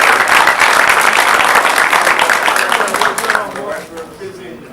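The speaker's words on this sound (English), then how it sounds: "We'll give you a round of applause and we'll congratulate you." Loud, dense applause from a crowd at a school board meeting that swells, then thins out and fades toward the end.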